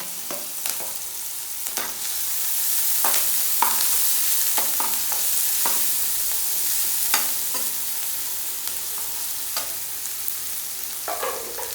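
Chopped onion, green chilli and ginger fry and sizzle in a pan for upma, with a steady hiss and repeated sharp scrapes and clinks of a spoon stirring throughout.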